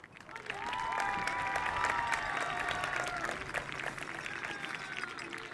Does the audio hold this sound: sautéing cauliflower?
no